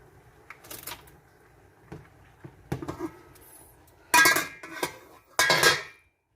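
Spoon stirring split pea soup in a pot, heard as scattered soft clinks and scrapes followed by two louder, longer scraping bursts against the pot, close and alone.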